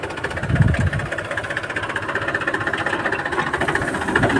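A steady, chugging tractor engine runs throughout with a low rhythmic knock, fairly close and continuous, with no voices over it.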